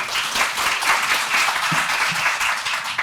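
Audience at a Korean policy forum on national heritage applauding to welcome a presenter. The clapping is loud and close, a dense, continuous wash of many hands lasting a few seconds, with no speech.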